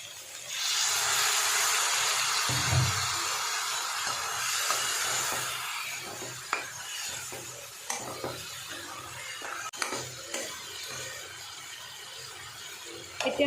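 Hot water poured into a hot pan of chicken and pumpkin curry sets off a loud, sustained sizzling hiss. It then gives way to quieter scraping and stirring knocks nearby.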